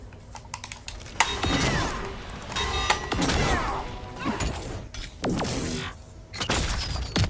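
Video game combat effects from Jacqui Briggs's fatal blow in Mortal Kombat 11: dense crashes, mechanical whirs, impacts and shattering bursts in rapid succession, loud and continuous.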